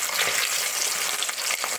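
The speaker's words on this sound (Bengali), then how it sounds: "মাছের পেটি দিয়েছি আর পেটিগুলো এখন আমি ভেজে নেব" Fish belly pieces fry in hot oil, giving a steady, dense sizzle that holds at an even loudness throughout, close up and with no talking.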